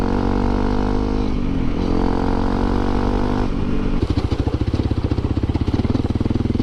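A Honda CRF250L Rally motorcycle is ridden off-road at dusk. Its engine drones steadily and close up, then shifts to a rougher, pulsing chug as the rider changes gear.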